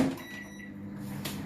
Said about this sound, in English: so you put it in the microwave for 1 minute